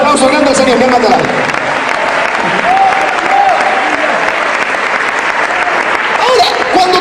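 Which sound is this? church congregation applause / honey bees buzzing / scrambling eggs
church congregation applause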